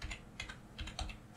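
Close, quiet typing on a computer keyboard, a quick uneven run of about half a dozen distinct keystrokes with short gaps between them.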